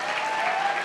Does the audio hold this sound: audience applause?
yes